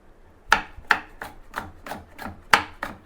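A knife chopping vegetables on a board for cheese chilli toast, eight crisp close cuts in an uneven rhythm with quiet gaps between, no talking.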